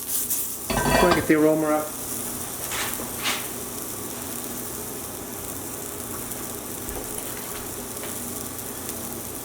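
Shrimp scampi sizzles and fries in a pan while a wooden spoon scrapes and clatters against it in a loud burst, then settles to a steady quieter sizzle; a voice speaks briefly.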